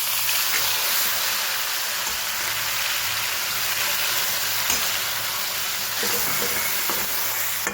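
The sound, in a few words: onion, tomato and chilies sizzling in oil with asafoetida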